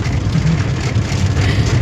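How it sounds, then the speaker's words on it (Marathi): Heavy rain and wind batter a car in a dense, steady wash of drumming noise over a low rumble, constant and close for the short stretch, with no voices. "अतिशय मोठा पाऊस, वारा पाऊस सुरू झालेला आहे."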